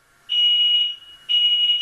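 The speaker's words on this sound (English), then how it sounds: "This is what happened when a smoke alarm went off in my house." Household smoke alarm sounding loud, piercing beeps indoors, two long shrill tones separated by a brief pause, alone with no talking.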